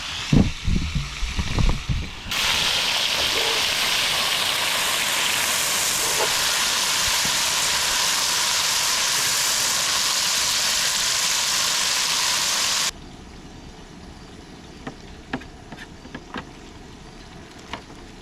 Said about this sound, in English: we're going to go ahead and put the veggies in, or the mushrooms in rather. And we saute those for 5 minutes